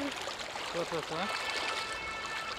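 Water swirls and flows steadily around people wading across a shallow river near a sandbar at Mandrem beach in Goa, under short bits of talk.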